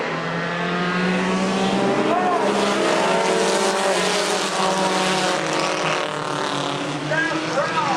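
Race cars at a Thursday Night Thunder event roar back to full speed after a restart, a loud, continuous engine drone with passing pitch sweeps, under a commentator's voice.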